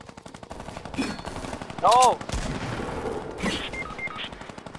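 Rapid bursts of automatic gunfire in a shooting video game, loud and close with a dense rattling rhythm, while a voice cries out in alarm.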